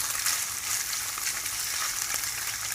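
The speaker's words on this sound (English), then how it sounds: "And just cook it up together with the garlic and the chili." Garlic and chili sizzle steadily in a hot pan for vegetarian fried rice, a dense, even frying hiss that holds close and constant throughout with no voices.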